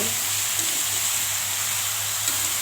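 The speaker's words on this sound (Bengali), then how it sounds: "এখন আমি ভালোভাবে নাড়াচাড়া করব।" Vegetables fry and sizzle in a pan as they are stirred, giving a steady, even hiss with faint scraping touches and a low hum beneath, and no one speaks.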